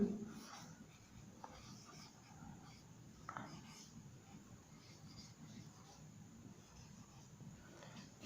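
Chalk or marker scratching out notes on a classroom board during a science lesson, a soft continuous scraping with small strokes and taps, fairly faint against room noise.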